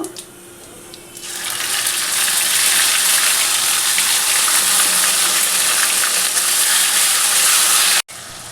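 Cumin seeds dropped into hot oil for aloo dum set off a sudden loud, hissing sizzle after a quiet start, crackling steadily and close up until an abrupt cut near the end.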